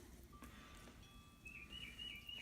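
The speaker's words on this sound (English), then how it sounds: "You can hear the birds." Faint birds chirp and trill in the distance outdoors, thin high calls repeating over a soft background hush.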